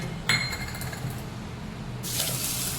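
Rice with toor and moong dal is rinsed in water for khichdi, starting with a short clink of grains against a steel bowl, then soft sloshing and a louder splash of running water at the end.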